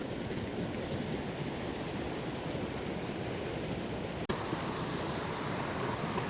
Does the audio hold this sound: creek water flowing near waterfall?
yes